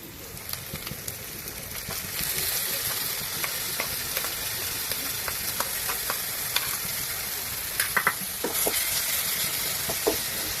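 A ground masala paste with turmeric and ginger-garlic paste fries in a pan, giving a steady close sizzle and hiss with repeated spoon scrapes and taps throughout.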